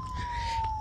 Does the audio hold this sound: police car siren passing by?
yes